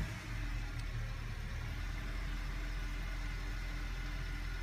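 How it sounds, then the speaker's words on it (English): A 2006–2011 Honda Civic GX running on compressed natural gas idles steadily with its fuel shutoff valve closed, burning off the fuel left in the lines, as a constant low engine hum with no talk. "run the car out of the remaining fuel in the lines to depressurize it"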